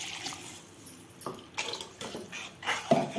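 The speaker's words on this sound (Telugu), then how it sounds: "ఇందులోకి మనకి పులుపుకి సరిపడా వాటర్ కూడా వేసుకుందాం" Water splashes and trickles into a container in short bursts, close by, with no talking.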